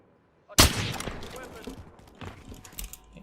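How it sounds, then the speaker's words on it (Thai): A single loud sniper rifle shot cracks in the video game Warzone Pacific, with a long rolling echo and scattered game action noises trailing after it. "ยิงทักทายไปหน่อย ถึงแม้จะไม่มีดาเมจ เขาเรียกว่ายิงวัดระยะครับ"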